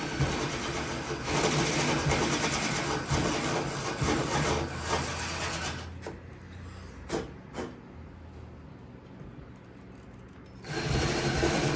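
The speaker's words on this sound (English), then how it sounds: "I was trying to drill out the bottom ones first, but the bit needs to come through the hole" A power drill bores holes through fiberglass on a Jeep Wrangler JK during a roof rack install, a loud gritty whirring grind that runs for several seconds, drops away into brief pauses and clicks, then starts again.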